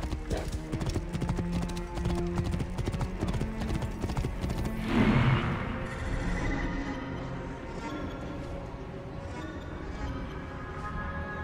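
Horses gallop in the video game Assassin's Creed Origins, a steady close drumming of hooves with a neigh partway through, loud and continuous.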